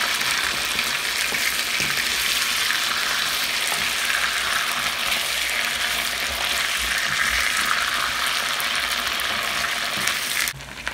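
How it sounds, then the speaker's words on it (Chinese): Potatoes fry in butter in a pan, giving a steady, close sizzle and crackle that holds evenly for about ten seconds before cutting off abruptly near the end. "那我们煎一下"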